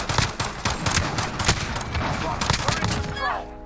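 Rapid pistol gunfire from the M19 pistol in Modern Warfare, with repeated sharp shots in close succession over continuous game noise and battle sounds.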